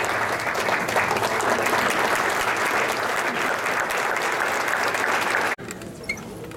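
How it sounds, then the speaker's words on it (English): Audience applause fills a Christmas program, loud and dense steady clapping from a crowd that runs for over five seconds, then cuts off abruptly into quieter room sound with a few stray claps. "Let's give her a round of"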